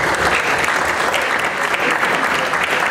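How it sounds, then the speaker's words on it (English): An audience at a state political forum gives a sustained round of applause, a dense, even wash of many hands clapping close by without pause. "So if we all give him a round of applause."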